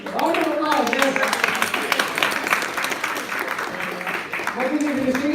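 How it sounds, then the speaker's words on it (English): A round of applause from a crowd at a spiritual retreat session, steady dense clapping that runs the whole stretch, with voices calling out and talking over it. "Round of applause, yes."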